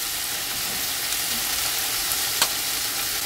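Oregano and ground black pepper are stirred into a hot frying pan of spiced veg taco filling, giving a steady close sizzle with one brief scrape of the spoon partway through; nobody talks.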